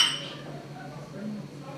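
Glasses of home-brewed wine touch together in a toast: a bright clink at the start rings out briefly, then a soft, lingering hum of background noise follows with no talk.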